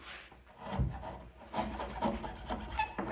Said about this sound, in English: just clean it up with your chisel.